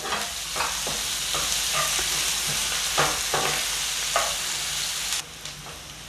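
Sliced onions fry in hot oil with a steady sizzle, while a spoon scrapes and stirs them at irregular intervals as they brown to golden; the sizzle drops off sharply near the end.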